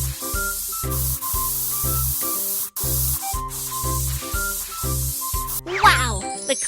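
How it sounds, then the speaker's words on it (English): Repeated short hisses of spray paint on a steel plate under bouncy background music, ending with a squeaky, warbling effect. "Then spray the steel plate with paint."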